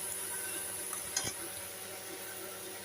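Leafy greens frying in a pan at home: a soft, steady sizzle with one brief stir or clatter partway through, fairly quiet and close.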